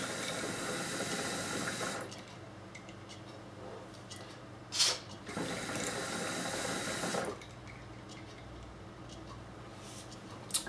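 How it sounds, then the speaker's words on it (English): Hookah water bubbling during shisha smoking, heard as two long, loud bursts of gurgling about five seconds each with a short pause between them, close and with no talk. "And that's how you smoke shisha."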